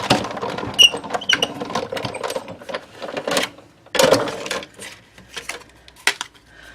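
A die-cutting machine rolls Whisper White cardstock through a stitched-shapes die, producing close, irregular mechanical clicks and ratcheting clatter in uneven bursts with brief quiet gaps.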